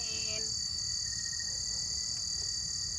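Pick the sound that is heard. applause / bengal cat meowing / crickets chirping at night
crickets chirping at night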